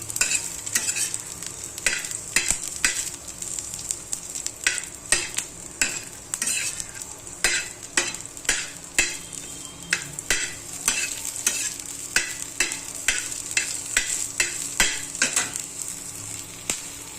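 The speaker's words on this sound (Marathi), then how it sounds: "हे मिरची भाजताना गॅस थोडा कमी ठेवायचा" Green chilies fry in oil in a pan with a steady sizzle while a utensil repeatedly stirs and scrapes in an uneven rhythm, close and clear, with no talking.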